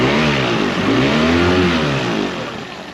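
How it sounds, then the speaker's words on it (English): A loud Yamaha 15 horsepower outboard motor, freshly serviced after five years stored in a barn, revs up close by, its engine pitch rising and falling steadily before easing off. "Revs up really nice."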